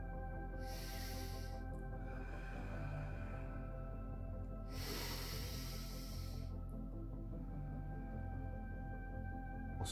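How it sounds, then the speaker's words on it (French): Slow, deep breaths drawn in and let out during a barefoot mindful grounding exercise, two long airy hisses about four seconds apart, close and quiet against a steady low hum, with no talking. "on va venir prendre des respirations"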